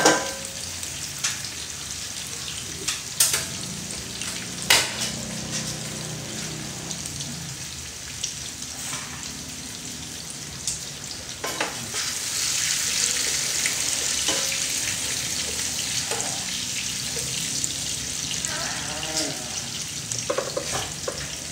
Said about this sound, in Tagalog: Igisa ko lang to ha.